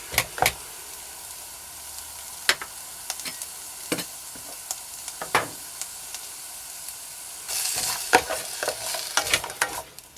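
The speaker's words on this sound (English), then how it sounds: "the smell of onions frying" A steady sizzle of onions frying in a pan on a Trangia camping stove, punctuated by scraping stirs, growing louder and hissier toward the end.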